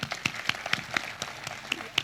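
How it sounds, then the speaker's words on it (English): Sparse applause for Tal, a startup accelerator speaker, from a small audience, with distinct scattered claps landing irregularly a few times per second rather than a full roar. "a massive round of applause to Tal"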